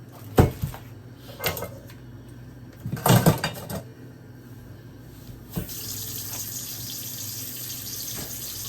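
Tap water runs into a sink while celery is cleaned in vinegar water for chicken soup, with a few clunks and knocks at first, then a steady hiss of flowing water that fills the second half.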